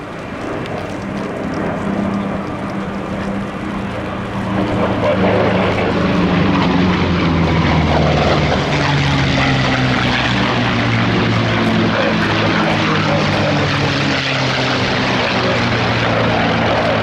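A P-47 Thunderbolt propeller fighter plane drones steadily overhead at a Duxford airshow, its engine rumbling loud and continuous, growing slightly stronger as it passes.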